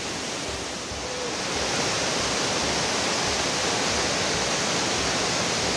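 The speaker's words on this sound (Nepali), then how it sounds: "झरना चाहिँ" The Sinti waterfall, also called Shaktikhor waterfall, roars as a broad continuous wash of falling water that swells slightly louder after the first second and then holds steady, with no voices.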